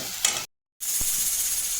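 Spice paste sizzling hard in a pan as water goes in, a loud hiss that cuts out briefly, then resumes as a steady bubbling fizz with no talking.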